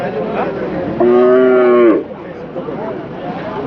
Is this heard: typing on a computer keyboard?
no